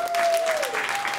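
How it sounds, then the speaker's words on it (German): A comedy show audience breaks into dense, sustained applause, many hands clapping at once, loud and close, with a faint voice or tone running underneath. "einmal klatschen, wo die Almans sind"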